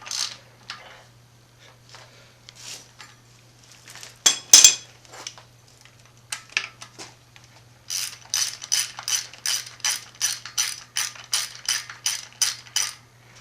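Ratchet tightening the camshaft bolts on a rally car engine in a garage: scattered clicks at first, then a steady run of rapid, evenly spaced ratcheting clicks, close and fairly loud, with no talking.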